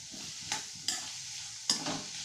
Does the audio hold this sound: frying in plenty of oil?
yes